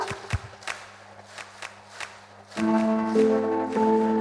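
A stage show audience claps in unison to a steady beat, the sharp claps evenly spaced, then music with sustained tones swells in beneath them.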